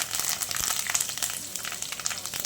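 Curry leaves and peanuts hit hot oil for a tadka, giving a steady, close crackling sizzle with rapid little pops throughout.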